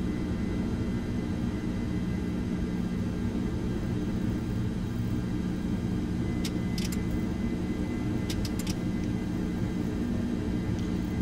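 A330 jet engines roar at takeoff power during a simulated X-Plane 11 takeoff roll, a loud, constant broadband rumble with a few brief clicks partway through.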